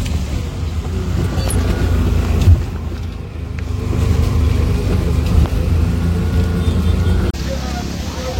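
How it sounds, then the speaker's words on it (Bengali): Heavy rain pours down outdoors near a road with auto-rickshaws, a dense continuous hiss over low traffic rumble, with people talking in places. "বিশাল জোরে বৃষ্টি শুরু হয়ে গেছে।"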